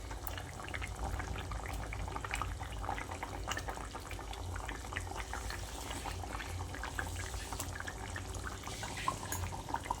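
Hilsa fish and fried eggplant simmer in a potato curry, giving a steady, busy bubbling and sizzle that runs throughout, with faint scattered ticks and no talk.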